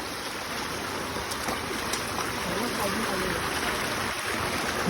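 Rain-swollen stream rushing along a trail at Malanggad after several days of rain, a steady broadband wash of flowing water that stays fairly even throughout.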